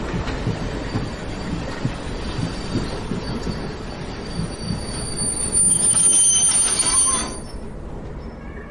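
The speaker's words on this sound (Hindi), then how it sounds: "तुम्हें यहीं पर ट्रेन रोकनी पड़ेगी।" Train braking to a stop in a horror drama, a steady low rumble of wheels on rails with a high metallic squeal building near the end before fading, no voices.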